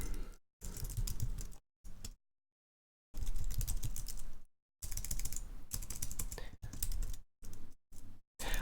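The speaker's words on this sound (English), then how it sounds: "I am really struggling at typing." Rapid clicking keystrokes on a computer keyboard come in bursts separated by short silent pauses, close and fairly loud, with no talking.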